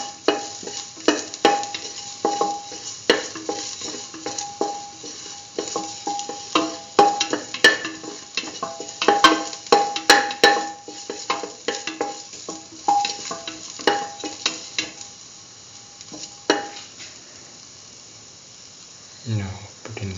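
Ingredients for corn coconut milk rice sautéed in a pan, heard as an irregular series of scraping and stirring strokes over a light sizzle, close by, easing off toward the end.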